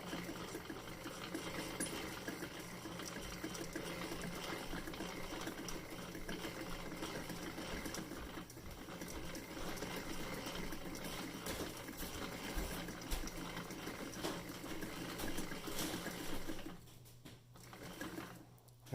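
Copper wire is wound onto a Silvertone reel-to-reel power transformer, producing a continuous, quiet, close whirring and rattling hum that runs steadily and fades near the end.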